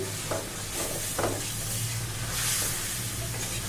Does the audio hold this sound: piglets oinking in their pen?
no